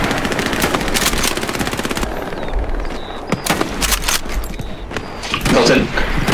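Sustained machine gun bursts from the World War II shooter Hell Let Loose, loud rapid rattling fire with scattered single gunshots and thuds over distant battlefield ambience, voices faint underneath.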